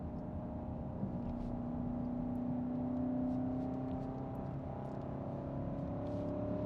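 A BMW X7 M60i V8 SUV taking a turn, heard from inside as a low, steady engine hum and road drone with a faint rising tone in the middle, moderately quiet and without talk.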